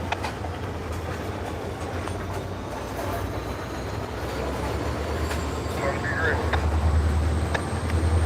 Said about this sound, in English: We got the Heritage locomotive this morning.